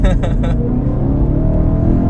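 A BMW E92 M3 with a modified exhaust and six-speed manual drones at a steady moderate level, with a short burst of speech at the start over the engine.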